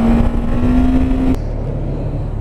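A Honda CB1100 cafe racer motorcycle engine runs loud and close under throttle, a steady droning tone that cuts off abruptly partway through and drops to a lower idle rumble.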